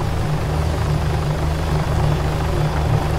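Steady, loud helicopter rotor thrum in the Arma 3 military video game, a continuous low pulsing drone holding at constant strength for a few seconds with no voices over it.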